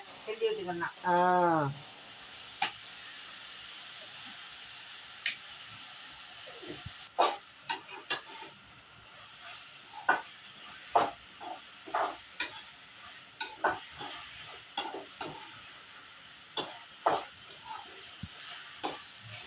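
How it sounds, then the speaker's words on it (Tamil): Masala for a village-style Sankara fish curry fries in a pan while being stirred, with soft intermittent scraping and light sizzling taps spread across the stretch under quiet background sound; voices speak briefly near the start. "இப்போ இது நம்ம நல்லா பொன்னிறமாக வதங்குற வரைக்கும் கிண்டி விட்டுக்கிட்டு"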